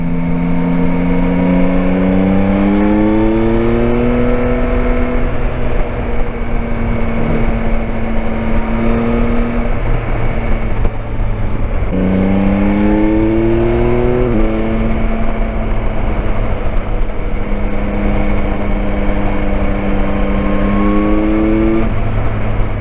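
A 2021 Yamaha Tracer 9 GT three-cylinder motorcycle accelerating hard through rising gear pulls, engine note climbing then dropping at each shift, with steady wind roar throughout and no talk.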